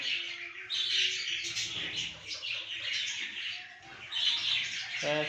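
Ringneck parakeets and finches in breeding cages chirp and squawk together in a steady, busy chorus, with harsh parakeet calls cutting over dense high finch twittering.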